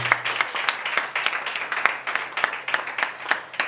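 A church congregation claps and applauds for Jesus during a prophetic service, a dense and steady wash of many hands at close range, with a faint voice underneath.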